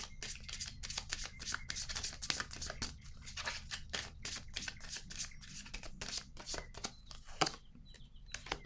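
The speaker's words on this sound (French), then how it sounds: "je vais piger une autre carte ici" Tarot cards being shuffled and drawn by hand, a close, quiet run of rapid riffling snaps and flicks with soft slides between them, and a faint voice now and then.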